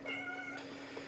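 A cat meows in one drawn-out, wavering cry, close and clear over a steady background hum, with no talk.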